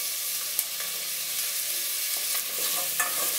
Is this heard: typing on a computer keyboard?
no